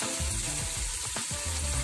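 Steady crackling sizzle of a ginger, garlic, green chilli and coriander paste frying in hot tempering oil for dry chicken, close and continuous, with a few low scraping stirs underneath.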